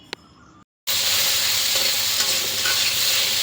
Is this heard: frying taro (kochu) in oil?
yes